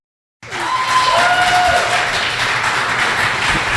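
Sustained applause from an audience at a St. Paul mayoral forum in a theater, loud and steady, starting abruptly and continuing without a break.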